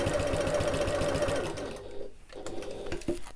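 Sewing machine whizzing along the edges of a backpack, a close rapid stitching run that slows and stops, followed by a few soft handling knocks.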